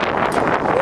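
Cold, gusty wind buffets the microphone in rainforest pouring rain at a Monteverde, Costa Rica bungee jump site, a loud steady rush with brief surges and no talk.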